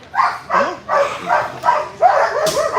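A working dog gives a rapid series of close, loud barks and yips, about six in under three seconds, in an even rhythm.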